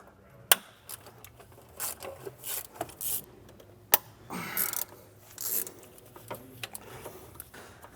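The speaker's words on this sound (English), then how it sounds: "we're going to break the bolt loose" A ratchet on an E10 swivel socket breaks loose a bolt on the oil filter housing of a BMW N55 engine, producing bursts of clicking ratchet strokes with a couple of sharp knocks in between.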